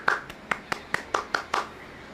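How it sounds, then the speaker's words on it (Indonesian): A classroom claps for a student, seven crisp, evenly spaced claps ringing out close and alone. "Yuk, mari kita berikan tepuk tangan kepada Rini dari kelompok 2."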